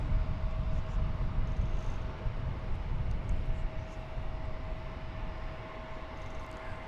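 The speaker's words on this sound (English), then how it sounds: "That was American Flight 2263 from Silao in Mexico. 737-800." American Airlines Boeing 737-800 passing at DFW Airport, a steady broadband jet roar with a faint whine, fairly loud and continuous throughout with no voices.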